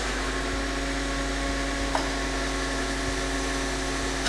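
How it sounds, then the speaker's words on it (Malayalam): A mixer grinder whirs steadily as it blends egg batter for Kerala-style mutta pathiri, a constant mid-level motor drone with no talk. "ഇത് നമുക്കൊന്ന് മിക്സിയിലിട്ടൊന്ന് അടിച്ചു വരാം."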